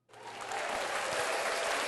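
Applause from a small group of people breaks out abruptly and holds steady, dense and fairly close, for the whole stretch with no voices over it.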